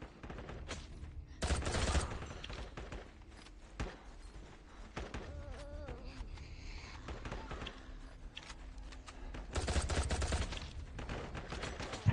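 Game gunfire during a LifeAfter raid in a forest: bursts of automatic shots and scattered single rounds, with dense volleys in several loud clusters, while a few players chat over voice.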